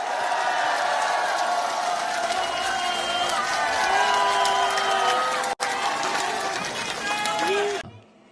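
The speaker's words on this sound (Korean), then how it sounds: "박수 한번 부탁드립니다" An audience at a political party event applauds steadily, a dense wash of clapping and crowd noise with voices mixed in that cuts off abruptly at the end.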